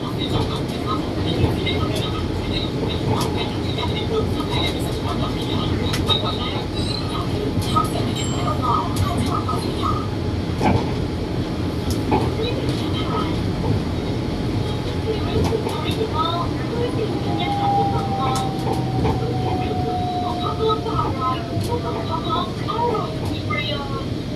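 Bangkok's Yellow Line electric monorail riding between stations near Lat Phrao, a steady loud interior rumble and hum with a rising whine late in the ride and faint announcements or voices in the cabin.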